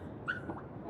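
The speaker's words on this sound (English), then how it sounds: "it sounds like there's a dog right outside of my door" A dog whimpers and yips briefly in the video game Honkai Star Rail, a short high whine over a busy game backdrop.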